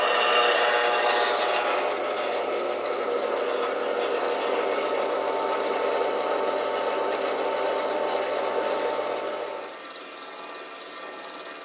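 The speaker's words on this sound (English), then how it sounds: "I'll just cut it in half right here." A machine cuts a plastic fixture piece in half, a steady, loud grinding rasp running evenly for nearly ten seconds before it drops off near the end, with no talking.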